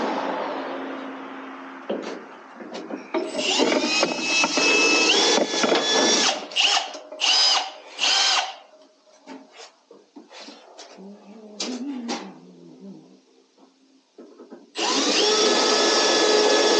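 Power drill boring with a drill bit during car prep work, whirring in bursts that start and stop repeatedly, then a long sustained run at the end, close and loud with brief talk between.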